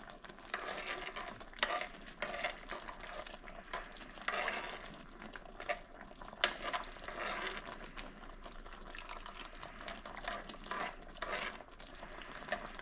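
Gravy simmering and being stirred in a pan for venison Swiss steak, a soft continuous bubbling sizzle with faint spoon scrapes, quiet and steady throughout with no voices.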